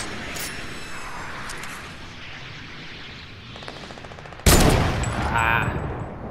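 Fortnite gunfire: a faint rattle of distant shots, then a sudden loud burst of close gunfire with crackling echoes in the final seconds, over low game ambience.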